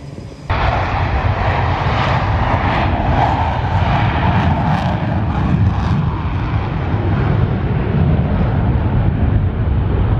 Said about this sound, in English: It takes a team to keep this jet flying in the air, and we're going to taxi by.